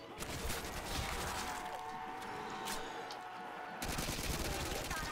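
Rapid bursts of Tommy gun fire in Call of Duty: World at War zombies mode on the nightclub map, loud and sustained through most of the stretch, broken by a brief lull before heavier shooting resumes.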